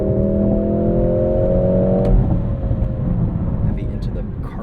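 Mercedes-AMG GLC 63 S E Performance, a 671 hp 2025 hybrid SUV in race mode, accelerating hard through a cloverleaf; a loud, close engine drone with rising tonal whine, easing off after two seconds.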